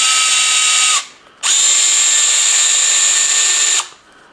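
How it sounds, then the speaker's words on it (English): A Snap-on power drill tapping a thread runs in two loud steady whines, the first about one second, then a short pause and a longer run of roughly two and a half seconds, close and alone. "one of the best things I ever bought was this snap-on drill because of the forward and reverse"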